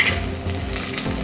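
Banana flower sautés in oil for a curry, making a brief, close, continuous frying hiss.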